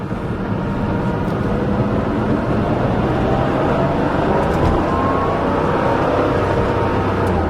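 A Porsche 911 flat-six engine runs with a steady, loud drone throughout, a deep mechanical rumble with a rough low-end growl and some wind noise, no talking.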